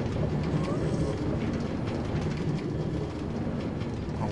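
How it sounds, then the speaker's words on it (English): A train ride in the Minecraft video game on a multiplayer server gives off a steady, low rumbling rail clatter with faint rhythmic clicks, continuous and fairly close throughout. "Well, we're on a train now."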